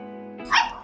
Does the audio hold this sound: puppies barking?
yes